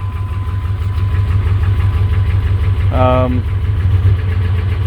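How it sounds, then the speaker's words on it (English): A 6.5 diesel engine at rough idle, a steady, loud low rumble throughout, with a brief tonal chirp near the end. "after running for a few minutes, it'll start to surge real bad. RPMs will jump up and down, as they kind of are now."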